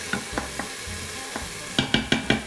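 Garlic sautés in an Instant Pot with a soft sizzle under a series of sharp scraping stirs, spaced irregularly, then bunching into four quick strokes near the end.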